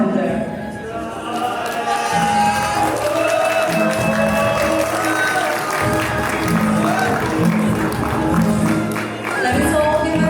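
Sustained audience applause fills a 10th anniversary celebration for Himalaya Airlines, steady and fairly loud throughout, with some voices and music-like tones mixed in beneath the clapping.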